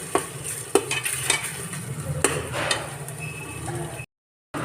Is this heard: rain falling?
no